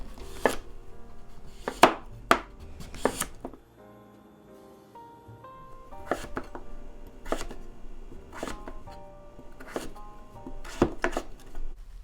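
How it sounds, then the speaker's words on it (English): A knife slicing through a peeled butternut squash on a cutting board, sharp loud chops in irregular bursts with a short quiet gap midway, close and alone. "with the long neck part of the squash, peeling it, and slicing it."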